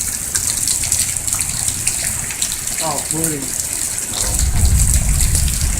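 Water gushes steadily, washing a pile of sand away toward a creek, a loud, continuous rushing that swells near the end, while a person briefly speaks.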